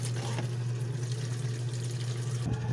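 Water poured into a cooking pot for heating, a steady close splashing fill with a low hum underneath, heard without talk.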